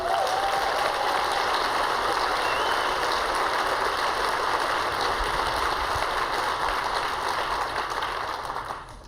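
Sustained audience applause at an Earth Day event, a steady broad wash of many hands clapping at full strength throughout before tapering slightly at the end.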